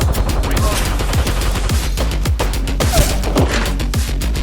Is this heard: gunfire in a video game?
yes